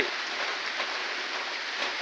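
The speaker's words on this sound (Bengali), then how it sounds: "সেই বৃষ্টি এখনও এই লাগাতার বৃষ্টিতে" Steady rain falling continuously on a cloudy, windy morning in a village, an even, dense hiss of drops without pause and no voices.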